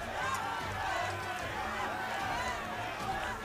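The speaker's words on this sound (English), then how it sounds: "The crowd is standing in the stands. I guess that's where the name comes from. And they're cheering for the United States." A crowd on its feet in the stands cheers at a Battle of the Nations medieval combat tournament in Prague, a dense, continuous roar of voices filling the whole stretch at steady loudness.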